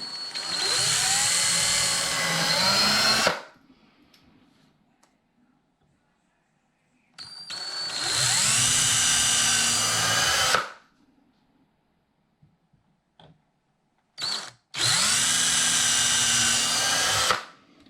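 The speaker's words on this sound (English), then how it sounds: "we'll just pre-drill those holes, being careful to get them in the right spot" A power drill pre-drills hinge holes in a door slab in three loud bursts of a few seconds each, separated by quiet pauses, its pitch rising as each burst spins up.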